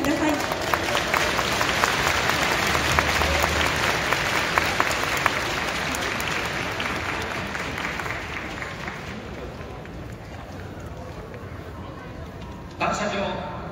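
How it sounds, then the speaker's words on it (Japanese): Crowd applause rolls through a stadium for the retiring Avispa Fukuoka official cheerleader Hana at the 2020 season-final ceremony against Tokushima, a broad, sustained clapping that eases slightly before a short voice near the end. "大きな拍手でお迎えください。"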